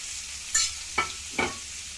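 Curry chillies, green chillies, curry leaves and onions fry in a pan under a steady hiss, with three distinct stirring scrapes spaced about half a second apart.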